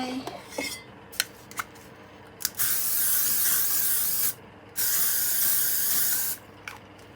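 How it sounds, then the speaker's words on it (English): Hairspray misted onto styled hair, starting with a few light clicks and taps before two long, steady hissing sprays of a couple of seconds each, close and fairly loud, with no talking. "A bit of hairspray."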